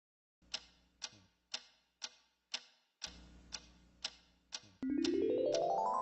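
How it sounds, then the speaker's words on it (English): Steady mechanical ticking, nine evenly spaced clicks close up, followed by a loud rising tonal whine that swells and holds to the end, with no talking. "What is that mysterious ticking noise?"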